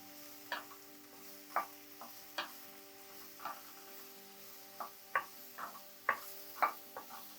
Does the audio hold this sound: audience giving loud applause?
no